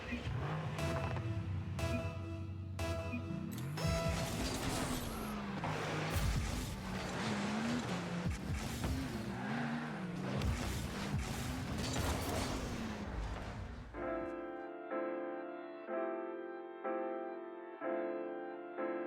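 An Aston Martin Valhalla engine in Rocket League roars and shifts pitch up and down amid tire squeals and busy effects, then gives way to a plain synth melody.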